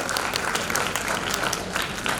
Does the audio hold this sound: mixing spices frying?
no